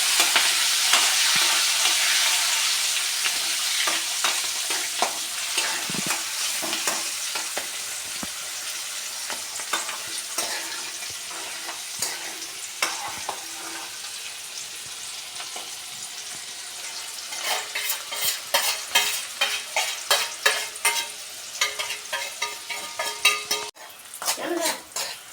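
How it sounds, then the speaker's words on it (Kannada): Salted green chillies frying in hot oil with steady sizzling, while a spoon scrapes and clinks against the pan in repeated stirring strokes that grow busier and more rhythmic toward the end. "ಉಪ್ಪಲ್ಲಿ ಬೆರೆಸಿದಂತಹ ಕಾಯಿ ಮೆಣಸನ್ನು ಎಣ್ಣೆಗೆ ಹಾಕಿ ಚೆನ್ನಾಗಿ ಅದನ್ನು ಹುರಿಬೇಕು"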